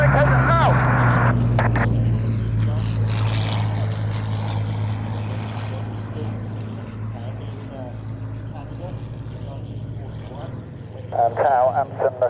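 A Hawker Hurricane's piston engine drones steadily at the Fly Navy airshow at Shuttleworth, a deep, continuous hum at moderate distance, with radio voices talking over it.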